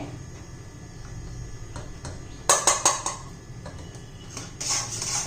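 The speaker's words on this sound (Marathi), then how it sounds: "एका ताटाला तूप लावून घेते" A metal plate being greased with ghee while making beetroot halwa at home clatters, with a cluster of bright clinks and knocks in the middle and another rattle near the end over a low kitchen background.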